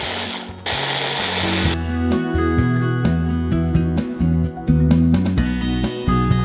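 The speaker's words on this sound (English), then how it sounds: "After this, we have to grind the peanuts" Electric grinder coarsely grinding peanuts in a home kitchen, running in loud, buzzing bursts that stop and restart in quick pulses close by.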